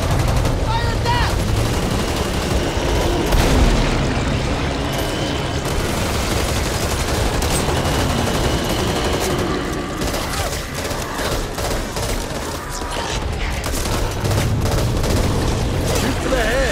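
Constant gunfire in the Back 4 Blood video game, overlapping rifle shots and bursts with occasional booms and mechanical clatter, players shouting over the heavy, unbroken barrage.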